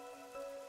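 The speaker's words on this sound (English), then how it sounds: "A city where it's always raining." Steady rain pours over a gloomy city in the video game Master Detective Archives: Rain Code, a faint, even hiss with a soft tonal hum beneath it and no voices.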